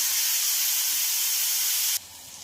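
Radish and tomato fry in a pan over medium heat, giving a steady, close hiss that drops suddenly to a quieter sizzle near the end. No one speaks.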